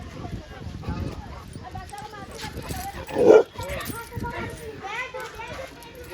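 A pet dog yips and barks in short bursts while being bathed, close by, mixed with overlapping voices of people talking and handling it, plus splashy background noise.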